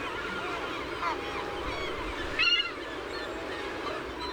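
Great black-backed gulls and herring gulls raise a clamor at their nests, a steady wash of overlapping cries with one louder, sharper call standing out midway.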